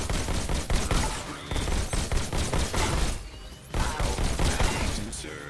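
Gunfire from the virtual reality shooter Robo Recall as robots are blasted, dense bursts of loud rapid shots with clanking mechanical impacts, briefly pausing before resuming.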